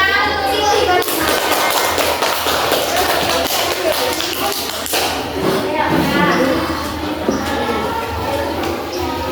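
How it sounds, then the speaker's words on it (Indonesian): Schoolchildren in an elementary classroom clap for a classmate, a loud, busy patter of small hands mixed with thumps, shuffling and children's chatter, close and continuous. "Tepuk tangan untuk Siti Fatimah."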